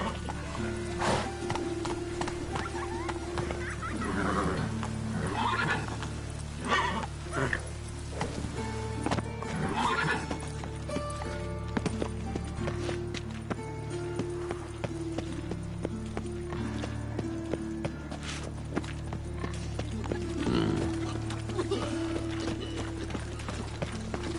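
Roach, a horse in The Witcher 3, gallops with a steady, rhythmic clip-clop of hooves beneath game music, while a voice speaks briefly over it.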